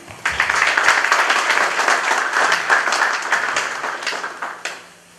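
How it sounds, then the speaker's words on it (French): An audience applauds after a cultural lecture, close and lively clapping with distinct individual claps that swells, holds steady, then dies away in the final second. "nous vous demandons de nous aider à lui manifester notre appréciation et de son intervention par un grand applaudissement"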